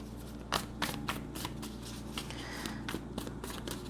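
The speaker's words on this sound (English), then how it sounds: "So we have one like wayward card at the bottom that's wanting to come out, but I'm going to keep shuffling." Tarot cards being shuffled by hand in a steady stream of crisp riffling and flicking bursts, close and fairly quiet, continuing without any talk.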